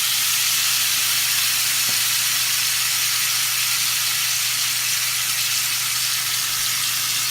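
Tenderloin sears in a hot pan, a loud unbroken hiss and crackle that holds steady throughout without stirring or voices.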